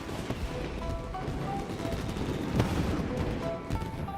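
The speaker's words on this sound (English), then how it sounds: "So, Yoimiya, these fireworks" Dense rolling fireworks explosions in the Genshin Impact game, a continuous barrage of bangs and crackles with a few sharper pops standing out, loud and steady throughout.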